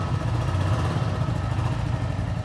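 A Royal Enfield Classic 350 motorcycle engine runs close by with the throttle applied, a steady low thumping drone with no pauses and no voices.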